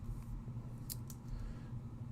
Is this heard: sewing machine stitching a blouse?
no